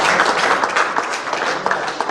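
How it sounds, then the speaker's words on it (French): Audience applause at an entrepreneurship talk in a Senegalese setting: a steady, fairly dense crowd clapping with a few sharper individual claps standing out, sustained for the whole stretch. "On applaudit pour vous."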